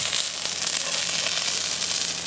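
Food sizzles steadily on a barbecue at a woodland campsite, a dense, continuous hiss and crackle held close and even for the whole moment with no voices.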